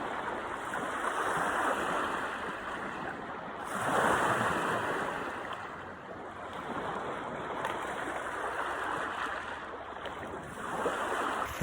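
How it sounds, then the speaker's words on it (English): Lake Superior waves wash steadily onto the shore at night, a close, loud, continuous surf roar that swells and eases in slow surges, with wind buffeting the microphone and no talk. "Sorry if the water's really loud."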